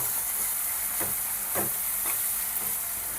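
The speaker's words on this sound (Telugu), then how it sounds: "ఇందులో ఇప్పుడు చింతపండు అయితే వేసుకుంటున్నా." Tamarind goes into chopped ridge gourd frying in a pan for chutney, giving a steady close sizzle and hiss with a few soft stirring scrapes, and no talking.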